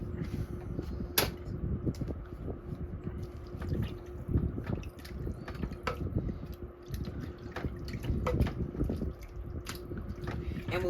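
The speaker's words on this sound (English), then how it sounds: "And then stir it." A spoon stirring a pot of sweet potato, red lentil and coconut curry soup, heard close as soft wet sloshing and scraping with occasional light clinks against the pot, in an otherwise quiet kitchen.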